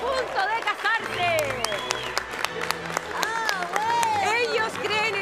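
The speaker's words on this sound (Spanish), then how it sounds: "Fuerte el aplauso" Studio audience on the Peruvian cooking show El Discípulo del Chef applauding couples about to marry, with clapping and crowd noise running under lively music and a host's voice.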